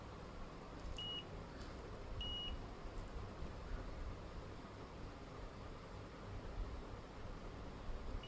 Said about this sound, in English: if some beeping sound occurs, that means